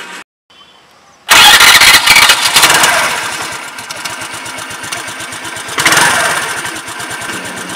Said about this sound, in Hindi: इसको एग्जॉस्ट सुना देते हैं इसका